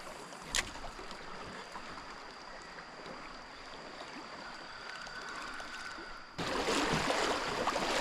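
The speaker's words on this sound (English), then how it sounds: "That water, crazy strong." Strong river current rushing steadily on a smallmouth bass river, a dense, even wash of flowing water up close that swells louder near the end.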